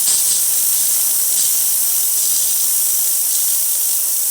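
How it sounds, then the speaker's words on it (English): A loud, continuous steam hiss blasts steadily from a Rancilio Silvia espresso machine steam wand for several seconds, bright and airy, with no other sounds over it. "the steam wands on these things are very powerful"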